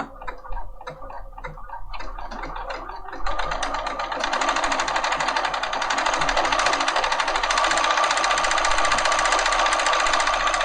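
A Bernina 5 Series sewing machine stitches out a pattern: a few quick starts and stops at first, then a fast, steady mechanical whirring hum with rapid ticking that runs on continuously, close and fairly loud.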